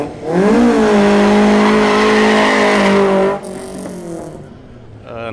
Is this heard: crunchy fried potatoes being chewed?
no